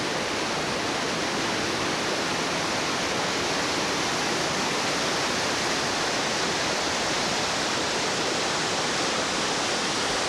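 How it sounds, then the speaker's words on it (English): Small waterfalls cascade in Glacier Park, a loud, steady, broadband rush of falling water that fills the whole span without letup. "They got little falls right down there. Got them cascading through."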